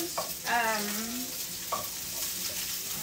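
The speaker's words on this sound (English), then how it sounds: "I'm just going to saute that for about 5 minutes in a little oil" Something sautés in a little oil in a pan for a smoked chicken curry, a steady close sizzle running throughout with a few brief stirring scrapes, no talk.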